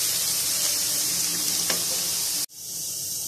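Whole black and green cardamom and cinnamon sticks fry in hot oil for beef nihari, giving a bright, steady sizzle with a faint scrape of stirring. The sizzle cuts off abruptly near the end, leaving a quieter hiss.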